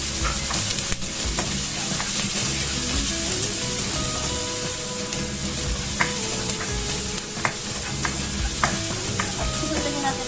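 Garlic sautéing in hot cooking oil for a sardine and miswa dish, a loud, continuous close sizzle with repeated stirring scrapes and occasional ladle taps.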